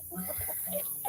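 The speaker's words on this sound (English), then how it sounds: "how crazy my chickens go over a head of cabbage on a rope" Chickens cluck excitedly over a head of cabbage hung on a rope on a homestead, a quick run of short overlapping clucks and squawks, fairly faint against steady background noise, with no talk.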